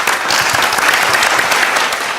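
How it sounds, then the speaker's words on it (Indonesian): Loud, close applause rises from a seated group at a professional gathering, a thick, even burst of clapping that stays constant throughout with no voices on top. "Tepuk tangan dong."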